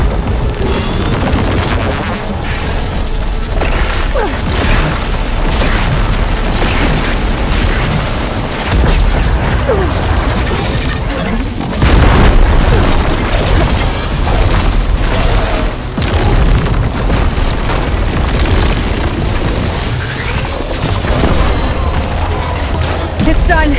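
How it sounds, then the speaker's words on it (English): Heavy booms and rumbling blasts go off in Horizon Forbidden West gameplay, with a dense, loud barrage of crashes and bursts that swells near the middle and keeps going across the whole stretch. "It's gonna explode any second!"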